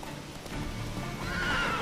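A horse in The Witcher 3 neighs and whinnies over hoofbeats, the whinny rising clearly near the end above a steady background of movement.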